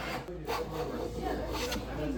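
A plane blade rubbed back and forth on a 1000 grit sharpening stone, giving a steady close scraping rasp that continues without a break.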